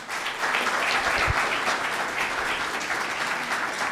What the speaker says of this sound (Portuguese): e uma salva de palmas para esses dois aqui